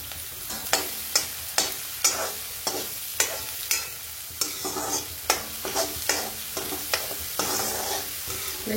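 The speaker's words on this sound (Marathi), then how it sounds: "आता आपण हे हिरवी मिरचीचं वाटण परतून घेऊ" Green chili paste being sautéed in oil in a pan, with rhythmic scraping strokes of a spoon repeating about once a second over a soft, continuous sizzle, close up and without speech.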